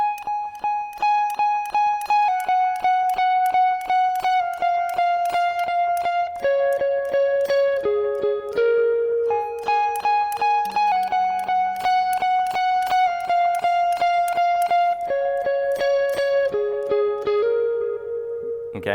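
A single electric guitar plays a lead phrase, starting on a high note and stepping down through a repeated melodic line, each note clearly picked and sustained, fairly loud and close with no talking.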